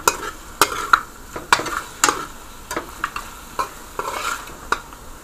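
Beef with ground garlic and seasoning frying in a pan for a stir fry, a steady close sizzle broken by repeated sharp utensil clinks and scrapes as the meat is stirred, with no talking.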